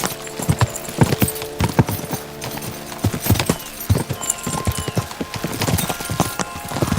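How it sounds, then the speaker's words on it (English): Horses gallop in the medieval game Kingdom Come: Deliverance II, with loud rhythmic hoofbeats pounding continuously and close, a few whinnies mixed in, and no talk over it. "We should spur the horses on!"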